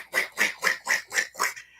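A voice imitates harsh hair brushing with six rapid, raspy, scratchy strokes in an even rhythm, each a loud breathy burst close to the mic.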